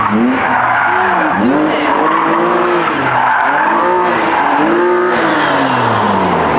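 BMW E46 drift car spinning its wheels in first gear, with loud sustained tire squeal and a wavering, revving engine that rises and falls repeatedly, close and continuous throughout.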